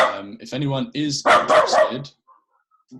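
A pet dog barks indoors in a few quick, sharp yaps that mingle with someone talking during an online meeting, then the room falls mostly quiet.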